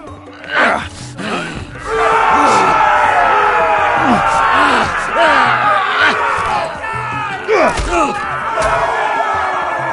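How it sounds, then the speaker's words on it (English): Arena crowd in a Game of Thrones video game on PS4 roars and cheers loudly and continuously, with shouts and groans rising over the din and occasional thuds. "Hear that, boy? We cannot let the crowd go wanting!"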